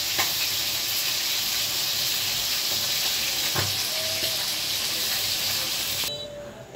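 Chicken meat frying in oil in a pan, a steady loud sizzle and hiss that runs unbroken for most of the clip before cutting off abruptly near the end, with a few faint clinks in the background.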